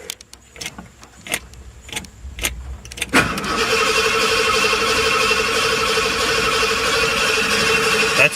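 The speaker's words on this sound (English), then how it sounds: "I'm going to push the starter, see what happens before I even turn the fuel and the ECU and stuff on" An Audi engine is cranked on the starter with fuel and ECU off to build oil pressure; scattered clicks and knocks give way to a sudden loud, steady whirring crank that continues close by without stopping.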